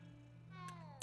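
A cat meows inside a video game, a short high cry over a steady electronic hum, followed by a brief sharp click at the end.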